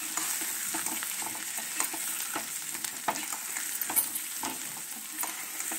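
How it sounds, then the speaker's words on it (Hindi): Masala arbi, taro root coated in spices and red chilli, sizzles steadily in a pan with occasional scraping stirs, a close, even frying hiss throughout. "ये अब आप इसे भूनने के लिए छोड़ दीजिए"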